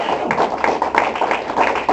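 A church audience claps in a steady, rhythmic pattern of sharp hand claps, fairly close and moderately loud, with faint voices mixed in.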